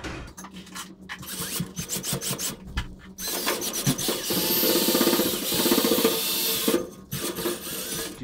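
A chimney sweep brush scrubs inside a home fireplace chimney as residue falls, giving rasping, scraping strokes that come in short bursts and then a longer sustained scrub, close and fairly loud.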